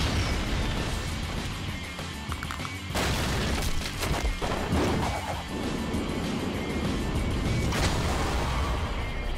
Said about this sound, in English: He just blew up the mountain.